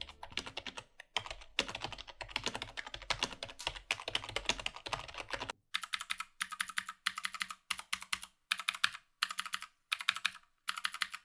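Typing on a gaming keyboard, mechanical or membrane, in continuous fast clattering bursts of keystrokes, then sharper separated clusters of key presses with short pauses between them, close and alone with no voices.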